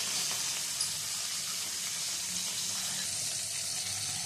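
Chapila fish frying lightly in oil in a pan: a constant, even, moderately quiet sizzling hiss with no breaks.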